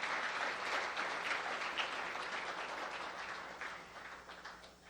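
Audience applause at the 5th Daewon Music Award ceremony: a full, crackling round of many hands clapping that holds steady, then gradually thins and fades toward the end, heard alone without speech.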